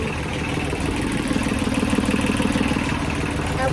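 A sailboat's engine runs steadily after repair, a continuous mid-pitched idling drone with faint clatter, loud and close throughout.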